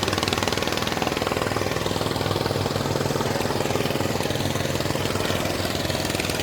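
A boat engine runs steadily at Omkareshwar, a close, loud, rhythmic mechanical chug with a rapid knocking pulse throughout.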